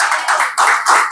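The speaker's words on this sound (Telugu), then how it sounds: "గట్టిగా చప్పట్లు." A church congregation claps loudly in bursts, a close, bright patter of many hands with short dips between waves.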